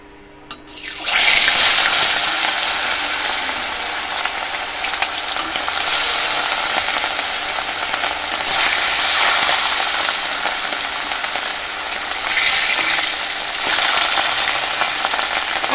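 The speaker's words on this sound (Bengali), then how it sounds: "এবার আমি মাছটা হালকা করে ভেজে নেব।" Fish pieces, catla, drop into hot oil and burst into a loud, sustained frying hiss that rises sharply at the start and roars steadily on, close and with no talking.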